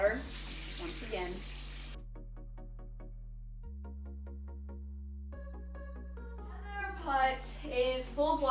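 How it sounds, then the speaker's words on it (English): Tap water running into a pot while making chicken pho, a steady broadband rush at first, then quieter with a chiming ringtone-like pattern over low hum, and the splashing flow returning loudly at the end. "Now we gotta add in water once again."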